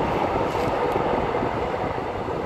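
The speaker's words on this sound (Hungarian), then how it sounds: "ott meg fönt ment, megy éppen a vonat is, talán halljátok" Train rolling along a railway near Dunaújváros, a steady broad rumble heard from outdoors at some distance, continuous throughout with light wind noise.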